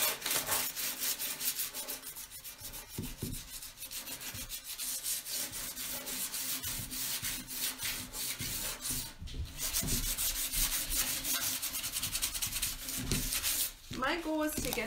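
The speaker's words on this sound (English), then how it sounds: "I'm going to take this and kind of just scuff this up, make it look a little bit nicer here." Steady abrasive scuffing and rubbing on the surface of a glass cup, a continuous gritty scraping that runs throughout at close range with little pause.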